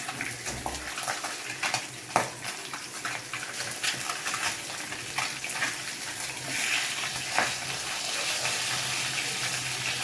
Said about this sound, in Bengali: মাছগুলো আমি এরকম অল্প অল্প ভেজে তুলে নিচ্ছি।